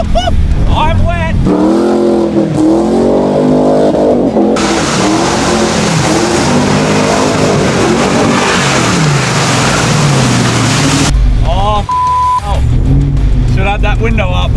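Off-road 4WD driving hard through water, a loud broadband rush of splashing and engine revving that swells and holds for several seconds, with people talking and shouting excitedly before and after.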